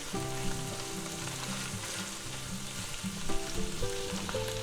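Ham warming and frying in a pan for an egg, ham and cheddar sub gives a steady close sizzle with a few light knocks from stirring throughout, and no voices.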